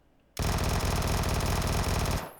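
A Vector SMG fires a loud, rapid sustained burst in PUBG, lasting about two seconds from a sudden start to an abrupt stop.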